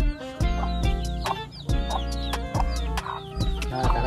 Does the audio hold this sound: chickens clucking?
yes